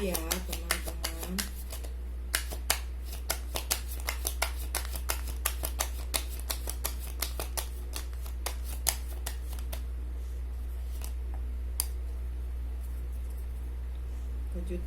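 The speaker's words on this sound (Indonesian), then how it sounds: "Saya tarik 4 kartu ya teman-teman." Tarot cards are shuffled and drawn by hand in a rapid run of crisp riffling snaps, close and steady, thinning out toward the end over a low background hum.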